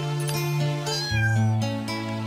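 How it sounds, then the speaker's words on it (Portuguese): A cat meows in a video game, several drawn-out, tonal meows following one another closely and clearly, with no talk over them. "Ó, o gatinho tá vivo ainda."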